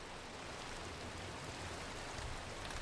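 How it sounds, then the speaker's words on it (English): Steady rain in the video game Minecraft, a dense, even hiss with soft patter that runs unbroken throughout and carries no voices. "because it is raining now"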